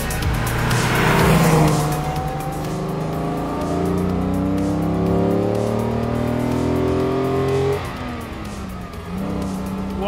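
Original Mercedes 300SL Roadster six-cylinder with fuel injection, revving steadily up through the rev range as the car accelerates hard, a loud continuous engine note with rising pitch and a brief shift dip near the end.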